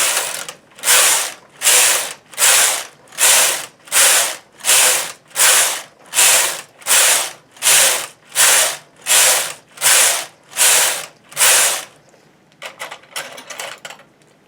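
A knitting machine carriage knits plain rows, sweeping back and forth in about a dozen even, rhythmic rasping passes with short pauses between, then a few softer, irregular clicks at the end.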